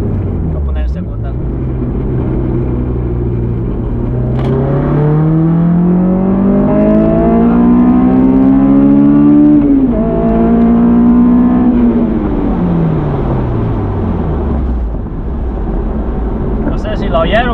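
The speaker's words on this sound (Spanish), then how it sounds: "ver si se oye el Vitec. Voy a poner en segunda." Honda S2000 accelerating hard in second gear, the engine note climbing steadily to a high wail as VTEC engages, then easing off with falling revs, heard from inside the car with road noise.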